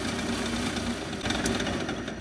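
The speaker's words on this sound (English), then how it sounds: "To operate the drill press, you're gonna turn the on button on, you're gonna lower the wheel" A drill press motor runs with a steady, close mechanical hum and slight vibration throughout, no voices over it.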